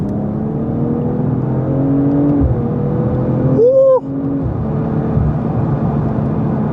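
BMW M440i pulling hard at full throttle in third gear, a steady engine note rising in pitch over several seconds, briefly broken by a gear change, then climbing again, loud and close.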